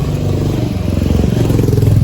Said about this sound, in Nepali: हामी अब चाहिँ बाइक स्टार्ट गरेर जान्छौँ